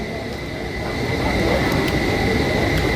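A Kolkata Metro train runs along the line with a loud, steady rushing roar and a faint high whine, rising slightly in volume and continuing without pause.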